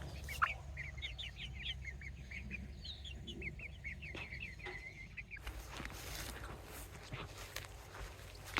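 Chickens in a mobile chicken tractor on fresh grass at a Galician homestead give soft clucks and calls at a moderate distance, with a few footstep-like thumps and a rustling, busier stretch toward the end.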